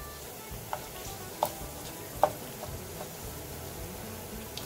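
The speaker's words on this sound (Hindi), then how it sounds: "ये देखिए प्याज ब्राउन हो रहा है।" A steady soft sizzle of onion, cumin, nigella seeds and curry leaves frying in oil, with a few faint clinks from stirring at irregular intervals.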